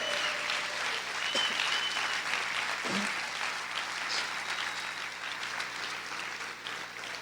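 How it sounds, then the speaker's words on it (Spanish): A church congregation claps loudly in praise, a sustained wash of many hands applauding throughout, heard from some distance in a large room, with a faint shout partway and no speech over it. "¿Cuántos pueden aplaudir fuerte al Señor?"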